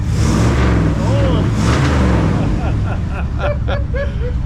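A 1966 Ford Fairlane with a Z-code 390 FE V8 and four-speed revs loud and close right after its throttle linkage is fixed. The engine roars steadily and people talk over it.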